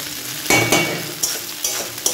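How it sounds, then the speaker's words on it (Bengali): Fish frying in hot oil in a home kitchen, a close, loud sizzle with several sharp spatters and utensil stirs over a couple of seconds, no voices. "আর দেখো তেল তেল ছিটকে ছিটকে পড়ছেও, মানে ভাজা হয়ে গেছে।"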